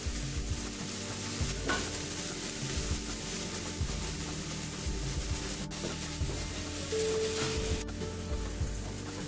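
Tomatoes added to fried masala sizzle in a pan while a spoon stirs and scrapes steadily, a continuous close frying hiss with occasional louder scrapes.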